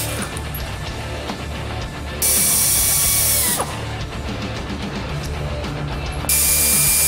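A power tool whirs in two long bursts as a socket spins off lower shock absorber hardware on an EZGO golf cart during a lift kit install, loud and close over steady workshop noise.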